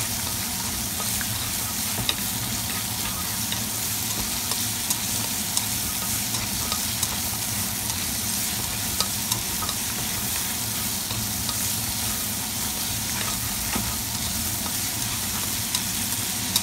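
Steady, loud sizzling and crackling of vegetables stir-frying with bacon in a hot pan, continuous throughout with no voices.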